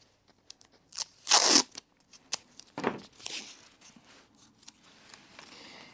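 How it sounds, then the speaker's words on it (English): Tape is wrapped around the joint of a floating shelf built without hardware. Close, quiet crackling and ripping bursts come in an irregular series, with one longer, louder pull of tape near the start. "I'm going to wrap the tape around."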